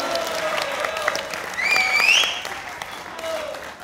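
Studio audience on a Pakistani TV quiz show applauds after a correct answer, a sustained wash of clapping with a musical sting rising over it and a voice briefly heard.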